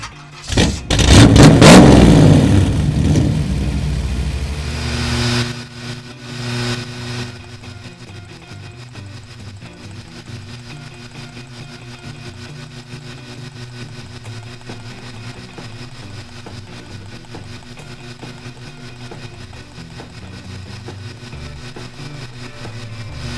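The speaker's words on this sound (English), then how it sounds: "Corrida de karts. Acelerar." A racing kart in the Deponia video game accelerates hard in a loud, brief engine rev burst, then drops to a low steady idle hum under faint game music.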